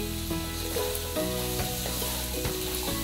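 Vegetables such as green beans, carrots and cauliflower florets being sautéed with masala paste for a vegetable pulao, sizzling steadily and loudly in a pan, with repeated stirring scrapes and clinks close up.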